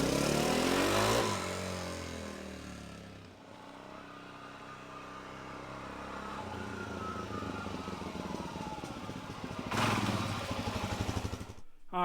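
Motorcycle ridden away with its engine revving up through the gears, then settling into a steady droning cruise before a closing burst of acceleration, heard close and fairly loud.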